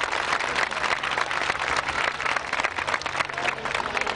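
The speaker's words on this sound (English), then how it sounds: "Let's give them a round of applause." An audience at a 1991 children's beauty pageant applauds the Tiny Miss top five contestants, a loud, sustained burst of many hands clapping that fills the room and stays strong throughout, with no speech over it.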